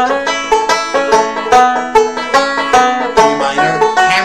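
A bright, twangy banjo plays a quick rolling lead with plucked notes in steady rhythm, close and loud, including sliding and hammered notes, no voices.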